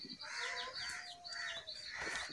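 Chickens clucking in a backyard coop, a series of soft, close, rhythmic clucks and short squawks that continue without pause, at low volume with no voices.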